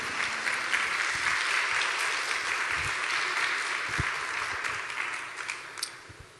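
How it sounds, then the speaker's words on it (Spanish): A church congregation bursts into loud, sustained applause during a worship service, dense clapping that fades out toward the end. "denle un aplauso bien fuerte al Señor"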